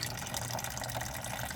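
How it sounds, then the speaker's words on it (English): Coolant water runs out of a radiator hose on a 1990 Ford F150 during a radiator and hose replacement, a continuous soft gushing and trickling that stays fairly quiet throughout. "I'm just draining it until it becomes pretty much clear water."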